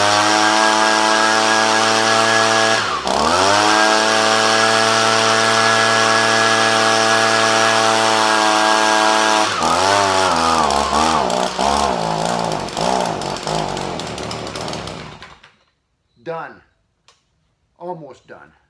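A small-engine chainsaw runs loud and steady, its pitch dipping and wavering as it is shaken about, then sputters and dies, leaving a few short bursts of speech.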